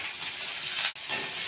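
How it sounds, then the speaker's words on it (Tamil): Onions, green chili and curry leaves sautéing in a pan for Tirunelveli-style mutton gravy, a steady close hiss of frying broken by a brief drop near the end, with no talking. "வெங்காயம், ஒரு பச்சை மிளகாய், கொஞ்சமாக வந்து கருவேப்பிலை சேர்த்துட்டு நல்லா வந்து வதக்கி விடுவோம்"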